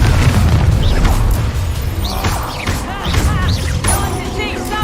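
Confringo spell blasts in the Hogwarts Legacy video game, a dense run of booming bursts and crashes with whooshing magic effects, loud and continuous under a voice calling out spell names.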